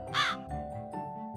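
A crow in an animated jungle story gives one loud harsh caw, then fainter cawing follows, all over soft background music.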